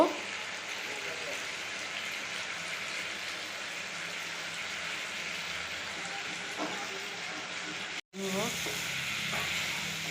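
Fish curry masala with coriander powder sizzles steadily in a pan, a dense continuous frying hiss. Faint stirring scrapes sit under it, and there is a brief cut near the end before the sizzle resumes.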